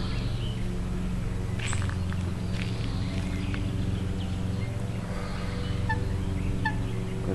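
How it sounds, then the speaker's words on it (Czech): Ducks call over a steady low hum of outdoor noise, with a few scattered quacks and honking cries, moderately near and intermittent, and no talking. "Kačeny jsou tady, no, jsou tady kačeny"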